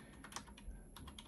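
A web address is typed on a computer keyboard: a quick run of soft, close key clicks, faint and without talk.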